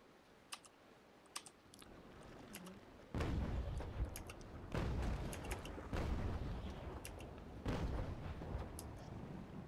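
Cannons fire in the Naval Action sailing-ship game, with faint scattered clicks at first, then a sudden loud rumbling blast followed by repeated booming volleys over a sustained low roar.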